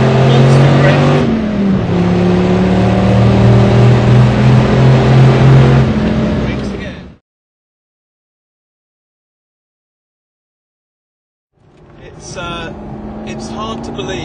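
Corvette Z06 driven hard on a race track roars loudly, its engine pitch dropping as it brakes and downshifts, then cuts to silence before engine noise resumes; a voice talks over it.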